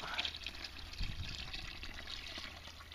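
Water pours and trickles into a gold pan holding concentrates of black sand, a steady close splashing with a fuller gush about a second in, then a continuous run.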